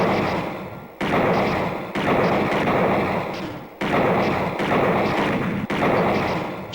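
Shooting practice in the Sega CD video game Snatcher brings a run of heavy gunshot thuds, about six evenly spaced blasts each decaying before the next, loud and with no talk.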